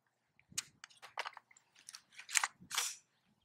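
A Wilson Combat AR9 carbine fires Wilson Combat 147 grain ammunition: a string of sharp, close shots in uneven rhythm, roughly seven or eight reports across a few seconds, each short and cracking against quiet between.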